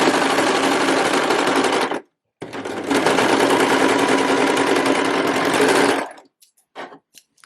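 Sewing machine running fast along a raw fabric edge of half-elastic-waist trousers, a dense steady whir in two long bursts with a short pause between, ending in a few brief stops.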